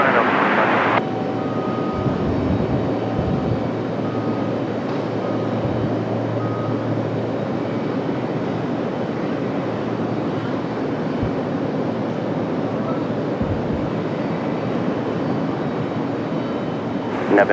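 An airliner on landing approach to runway 23 right at Raleigh-Durham airport gives off a steady, continuous engine roar with a low rumble, carrying on without a break throughout.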